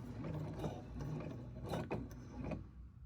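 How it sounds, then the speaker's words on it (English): A sewing machine edge stitches a folded hem on a large corner, its mechanism turning with a soft rhythmic clatter and a few louder ticks, close and steady with no talking. "I'm stitching 1/8 of an inch away from the edge of the fold"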